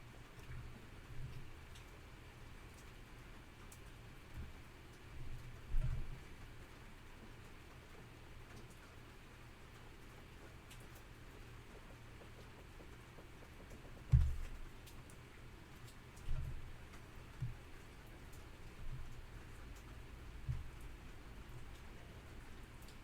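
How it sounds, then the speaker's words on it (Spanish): Heavy rain falls steadily as a broad, even hiss, with occasional louder thumps and drops standing out over the constant wash. "puede que se deba a que está cayendo una lluvia importante"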